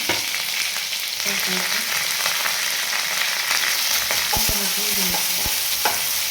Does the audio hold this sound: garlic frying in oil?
yes